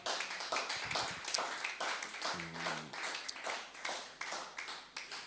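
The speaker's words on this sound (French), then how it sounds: "Acclamons-le encore très fort." A church congregation applauds loudly during a worship service, steady rhythmic clapping filling the room throughout, with a brief low tonal hum in the middle and no speech.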